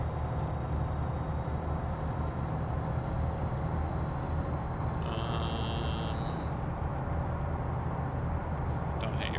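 Air brakes of a heavy truck in American Truck Simulator, a steady low engine drone under a brief hissing release midway, with no voices.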